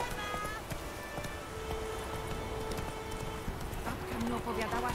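Horse hooves clip-clop in a galloping rhythm in The Witcher 3 as the rider mounts up and sets off, moderately faint under game ambience with chimes and some background voice.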